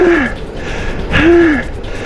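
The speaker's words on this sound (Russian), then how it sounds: "Запыхался." Heavy, labored breathing from a man out of breath after a long walk, two loud gasping breaths about a second apart, close to the microphone and alone without talk.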